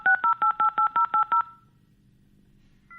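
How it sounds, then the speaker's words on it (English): Eight rapid, evenly spaced DTMF dialing tones from a modem sound loud and crisp in quick succession, followed by a hushed low hum and then a brief steady tone at the very end. "Dial her up on the modem."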